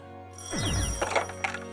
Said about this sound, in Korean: 엄마 실비아에게 다급히 걸려온 전화 한 통.